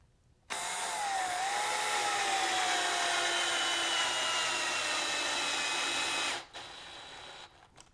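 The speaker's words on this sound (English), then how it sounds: "I'm going to take the bolts that came with it, or the wood screws. Get my screwdriver here" A screwdriver drives a wood screw into a homemade airbrush turntable, whirring loudly and steadily for about six seconds with a slowly shifting pitch, then stopping briefly before a shorter run.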